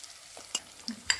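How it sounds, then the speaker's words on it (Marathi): White sesame seeds and coriander fry in hot oil, a faint, soft sizzle broken by a few quick stirring clinks. "तेलामध्ये कोथिंबीर टाकलेली आहे आता एक दोन चमच मी यामध्ये पांढरे तीळ टाकणार आहे"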